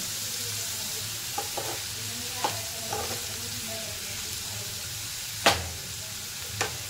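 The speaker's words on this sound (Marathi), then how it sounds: "कांद्याला आपण असं परतून घेणार आहोत." Onions sautéing in a pan for a spicy tomato bhaji, a steady close sizzle with a few light scraping stirs and one sharper clack of the spoon.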